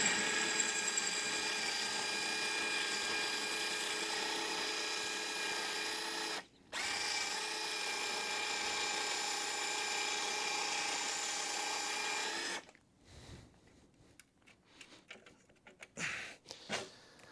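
A power drill with a larger bit bores steadily into a bolt head on a Charger crew cab's sill panel, a loud, sustained whine with one brief pause, then stops and gives way to scattered handling clatter.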